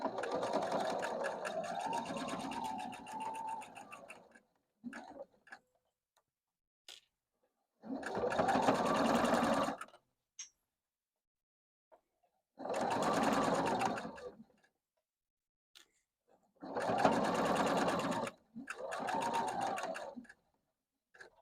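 Sewing machine stitching quilt block pieces in bursts of steady whirring, several runs of two to three seconds separated by pauses with small clicks.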